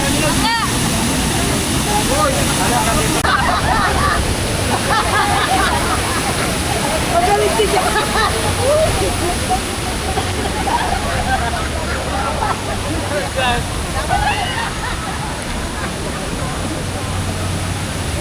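Loud, continuous rush of churning water from a strong river current at a waterfall, with faint voices mixed into the roar.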